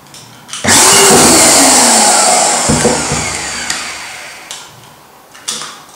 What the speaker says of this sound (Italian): Mettiamolo in corrente per vedere, ecco, il rumore che emana e soprattutto la potenza del motore da 650 watt.